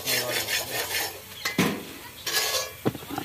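Potatoes go into a cooking pot with scattered clattering knocks and scraping against the metal, a few sharp clanks in a short, close burst.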